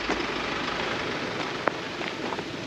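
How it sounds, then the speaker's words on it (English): Steady, dense hiss of heavy rain pouring down on an off-road trip near a landslide, continuous and loud throughout, with a sharp tap or knock near the end. "It's pissing it down"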